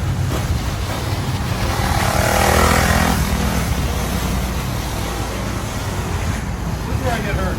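A 50cc motorcycle fitted with a T-Bolt race kit, new carburetor, clutch and high-pressure oil pump drones steadily while being ridden, its engine blended with heavy rushing wind noise.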